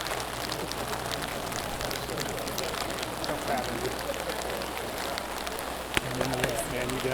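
Steady rain falls throughout an outdoor wedding ceremony, a continuous close hiss of drops on surfaces with faint voices underneath and a small knock near the end.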